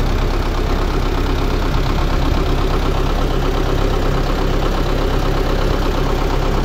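A tractor engine idles at close range, a loud, steady mechanical rumble with a faint knocking pulse that runs unbroken throughout, with no talk.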